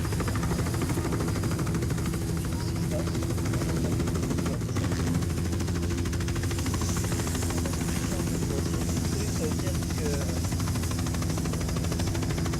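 Steady rotor chop and engine drone of a helicopter in the video game Lara Croft Tomb Raider: The Angel of Darkness fill the clip continuously, with someone speaking over it.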